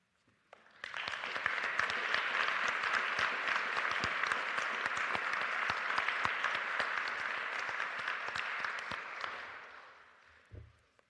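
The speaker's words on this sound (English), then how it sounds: "Let's have one more round of applause for all of our inductees today." An audience at a college athletics hall of fame induction ceremony applauds frontline workers from the pandemic, with sustained dense clapping for about nine seconds before it tapers off, followed by a brief handling thump.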